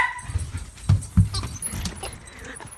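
A dog goes after a thrown ball, giving a few close, short whimpering and huffing sounds with low thumps, no talking.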